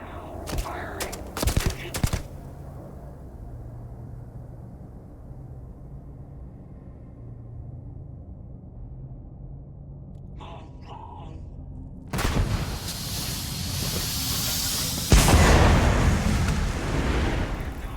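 In the video game Starfield, a few sharp gunshots sound at the start, followed by a long low rumble and a short burst in the middle. Heavy sustained gunfire and blasts then fill the final seconds.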